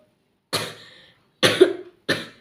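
Three harsh coughs ring out close to the mic, the first alone, then a pair in quick succession, each sharp and breathy with silence between.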